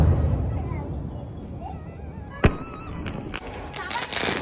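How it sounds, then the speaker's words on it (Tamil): Firecrackers burst during a Diwali celebration at night, with one sharp nearby crack and several fainter pops and crackles over a background of distant explosions and crowd noise. "பார்த்து பத்திரமா பட்டாசு வெடிக்கணும்"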